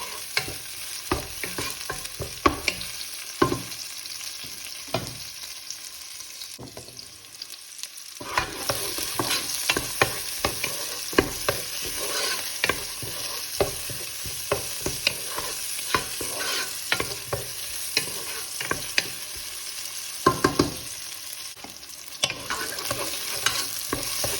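Tomatoes frying and softening in a pan, a steady sizzle with repeated stirring clatter and scraping throughout, close and fairly loud, no talking.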